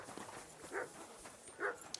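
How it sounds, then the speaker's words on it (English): A dog in the medieval game Kingdom Come: Deliverance II gives two short, moderately faint barks about a second apart over quiet ambient background. "Oh, an interesting dog."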